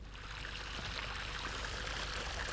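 Seawater flowing through a wooden-gated channel in a traditional salt pan, a steady rushing, trickling wash that stays even and moderately faint throughout, with no talk.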